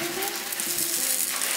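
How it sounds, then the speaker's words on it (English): Moroccan meloui flatbread, a flattened round of layered dough, frying in a pan, giving a steady close hiss of sizzling oil with a faint low hum underneath, no voices. "Place it on the pan and cook until golden."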